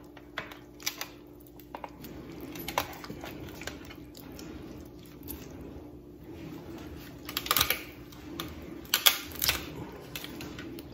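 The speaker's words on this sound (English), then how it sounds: "it's just as easy to go in here with the kitchen shears and find that bone" Kitchen shears snip through the breastbone of a chicken being spatchcocked, giving scattered sharp clicks and crunches, with a denser cluster of cuts near the end and nobody talking.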